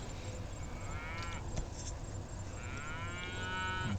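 Cattle in a herd lowing, with two drawn-out moos at moderate distance over steady outdoor background noise.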